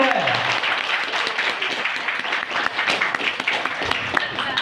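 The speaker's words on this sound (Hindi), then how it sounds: "थोड़ा सा ताली ज्यादा चाहेंगे" Audience applause at a business plan presentation for Mi Life Style Marketing Global Pvt Ltd: a steady, full crowd clapping near the mic for several seconds, with a voice faintly over it.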